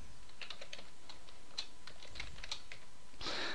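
Rapid clicking of typing on a computer keyboard while entering VBA code in Excel, a steady run of light keystrokes heard close and alone at a quiet level.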